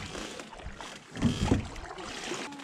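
A canoe paddled through a wooded creek on a windy day, with a low watery swish of a paddle stroke in the middle under steady wind noise.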